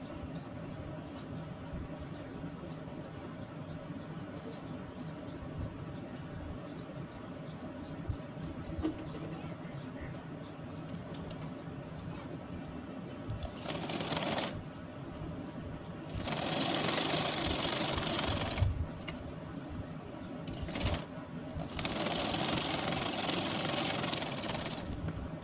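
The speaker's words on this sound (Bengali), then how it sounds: "সামনের পার্ট বসিয়ে সেলাই করে দেব" A sewing machine runs steadily while stitching a shirt collar, its drone continuous and moderately loud, rising into louder, brighter bursts of fast stitching in the latter half.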